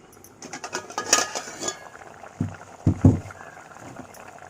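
Egg masala curry with water added being stirred in a pot, a few scraping, clinking strokes of a spoon against the metal with soft liquid movement, close and moderately loud, no talking.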